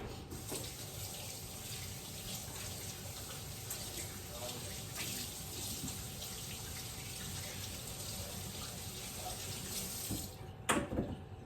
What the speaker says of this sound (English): I'm gonna wash my hands real quick